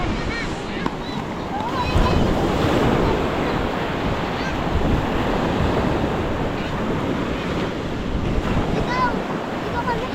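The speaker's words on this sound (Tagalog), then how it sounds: "lumaki yung alon dahil sa habagat" Large monsoon-driven ocean waves surge continuously against the shore at a river mouth, a loud roaring wash with wind buffeting the microphone and a few faint voices in the background.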